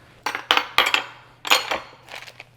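Ceramic bowls being cleared off a kitchen counter in several close, sharp clinks and clatters, bunched in quick pairs with short pauses between, alone with no talk.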